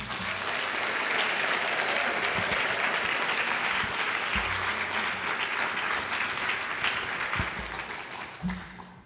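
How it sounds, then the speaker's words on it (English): Students and guests at a high school scholarship assembly give a long, steady round of applause, a broad wash of many hands clapping, with faint low thumps and shuffles underneath. "Can you guys please give all the people that donated money to help you guys out a round of applause?"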